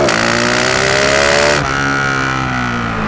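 A GasGas SM 700 supermoto motorcycle revs hard and accelerates close by, its engine note climbing loudly before cutting back suddenly as the front wheel lifts.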